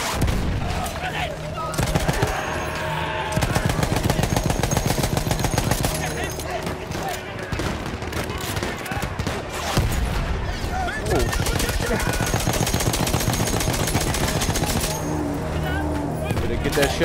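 Sustained machine gun fire rattles in rapid bursts in the Battlefield 1 video game, loud and continuous with short pauses, among explosions and battlefield noise while a person talks over it.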